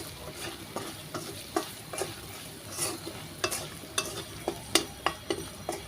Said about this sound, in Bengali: এখন মশলাটা একটু ভালো করে তেলের মধ্যে ভেজে নিব।